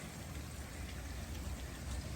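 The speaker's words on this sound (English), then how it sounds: "Still raining pretty decent." Steady outdoor rain during a day of storms, a dense continuous hiss of drops pattering on surfaces, even and unbroken, with no voices.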